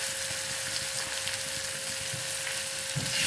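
Tomatoes hit softened onions frying in a pan for vermicelli (semiya) biryani, giving a steady close sizzle with a faint constant hum underneath and no voices.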